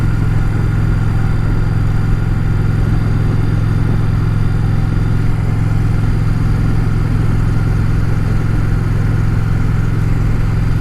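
Indian Challenger Dark Horse motorcycle engine running steadily while being ridden, a loud continuous low rumble with a constant drone throughout and no talk.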